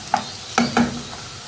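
Onions cook in a karahi with a soft sizzle under a few distinct stirring scrapes of a spoon against the metal, close and moderately loud.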